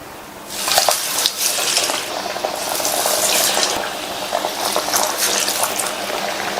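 Vadai frying in hot oil in a kadai gives a steady, loud sizzle with bubbling bursts that swell and ease over several seconds.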